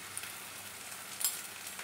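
Turmeric and ground chili hit hot oil in a pan, giving a soft, steady sizzle with faint crackles and a small stirring scrape, heard briefly and quietly.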